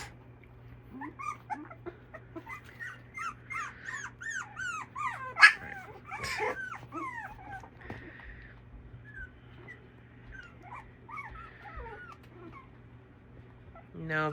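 Several dogs whine, yip and give scattered barks over about fourteen seconds indoors, mostly high-pitched whimpers with a few louder sharp barks near the middle, over a low constant hum.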